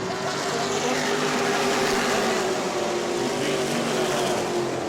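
E-Mod race cars roar around the track at New Smyrna, a loud, continuous blend of engine drone with no pauses.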